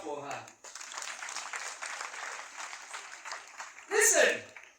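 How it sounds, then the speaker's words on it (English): Congregation clapping at a church gathering, a steady burst of applause in the middle, with a voice speaking briefly at the start and a loud exclamation near the end. "And you clap for her."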